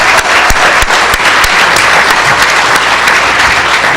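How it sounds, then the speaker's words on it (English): An audience at an official agreement announcement gives Mayor Paul Dyster a round of applause: loud, close, dense clapping that carries on steadily with a few sharp individual claps standing out. "Give him another round of applause, Mayor Paul Dyster."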